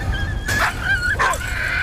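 A dog in the video game Valiant Hearts gives short yips and whimpering whines, two or three close, high-pitched bursts over a quiet background.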